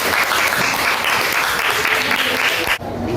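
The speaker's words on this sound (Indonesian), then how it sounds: "tepuk tangan buat Anda Nadia" A class applauds a student during a school lesson. Dense, steady clapping runs close and loud for about three seconds, then cuts off abruptly.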